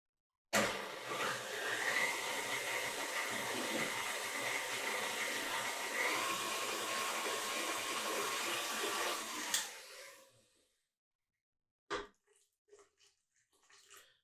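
An electric mixer kneading paska bread dough runs with a loud, steady whirring drone for about ten seconds, then stops abruptly, followed by a couple of faint thumps and soft handling noises.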